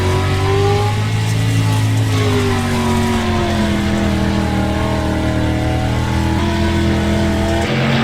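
Several race cars roar around a dry, slick dirt oval in iRacing, a loud continuous engine drone with shifting pitch as the pack circles close by.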